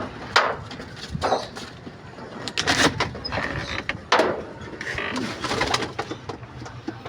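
Pigeons coo near and far, soft repeated calls mixed with wing flutters and scattered knocks, no talking.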